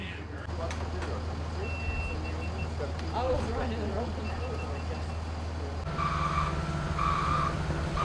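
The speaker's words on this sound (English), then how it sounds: "The concrete truck's here." Concrete truck at a pool construction site backs up, its reversing alarm beeping steadily over a rumbling engine, moderately loud throughout.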